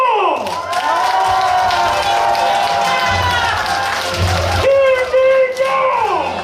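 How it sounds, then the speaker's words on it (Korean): A crowd cheers and shouts with clapping mixed in at the opening of a provincial council candidate's election campaign office in Ocheon-eup, loud, sustained massed voices rising and falling together. "여러분들의 큰 박수와 함성으로 시작하겠습니다"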